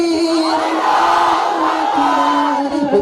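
At a religious gathering of hamd and naat, a large crowd roars the takbir slogan in a sustained, loud, massed chant of many voices echoing in a hall.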